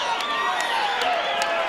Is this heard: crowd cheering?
yes